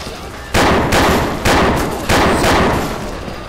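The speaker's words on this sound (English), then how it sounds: "I just took somebody's fucking arm off with a revolver round" Revolver gunfire in the zombie shooter game Brainbread: four loud, heavy shots spaced roughly half a second to a second apart, each with a booming tail, close and alone with no talking.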